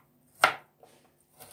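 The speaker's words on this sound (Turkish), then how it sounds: "küçük bir soğan veya soğanınızı rendeleyebilirsiniz" A small onion is grated by hand: one sharp, crisp rasp stands out, followed by a couple of fainter scraping strokes amid near silence.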